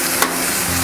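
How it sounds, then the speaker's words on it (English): Steaks sizzle on a hot grill in a loud, close, continuous crackling hiss, with one brief scrape partway through and no voices. "You can hear that sizzling."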